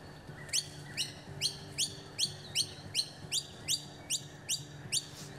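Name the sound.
noisy miners calling in eucalyptus trees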